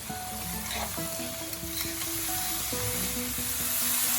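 Sliced mushrooms frying in a hot kadai, a steady close sizzle and crackle under soft background music, with no talk.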